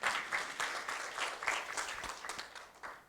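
A church congregation claps together during a service, a fairly close, lively burst of many hands with a few sharper individual claps, fading a little toward the end.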